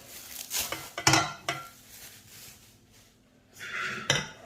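A metal kadhai cooking pot is handled in a kitchen while cooking steamed roast chicken leg pieces, giving several sharp clanks and scrapes with quieter shuffling between them.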